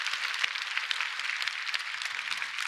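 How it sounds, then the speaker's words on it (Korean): A church congregation applauds during a Sunday worship service, a steady wash of many hands clapping together, moderately loud and continuous with no talking. "우리 하나님께 영광의 박수 올려드립니다"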